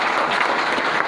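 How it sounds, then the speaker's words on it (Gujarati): Loud, continuous applause from an audience at a marketing business event, dense clapping filling the whole moment without pause. "જોરદાર તાળી સાથે."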